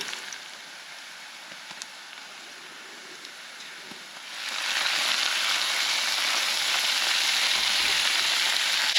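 Onions and garlic frying in a pan for chili at a campsite, a quiet steady sizzle that swells to a louder, brighter hiss about halfway through as more goes in, continuing evenly without talk.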